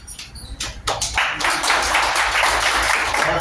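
Audience applause at an event honouring a yoga teacher, a crowd clapping steadily and densely after a few scattered opening claps, building into a continuous wash of hand claps.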